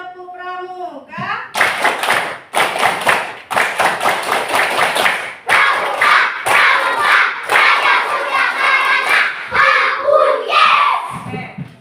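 Schoolchildren performing the Tepuk Pramuka scout clap twice in a classroom, loud patterned rounds of rhythmic group clapping with brief gaps, mixed with children shouting along, after a teacher speaks at the start.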